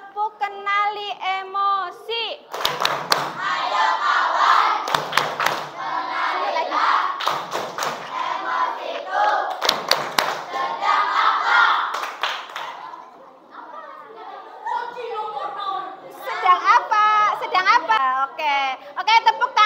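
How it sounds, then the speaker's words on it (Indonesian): A group of children claps along in rhythm at school, chanting and shouting over the beat, with sharp bursts of applause standing out loudly. "tepuk tangan buat kita semua"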